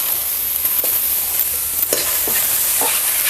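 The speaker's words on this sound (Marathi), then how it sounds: "तर आता आपण यामध्ये घालूया हे टमॅटो" Tomatoes added to browned onions roasting in a pan, sizzling steadily and up close, with several sharp clicks and scrapes of a spoon stirring against the pan, heard alone.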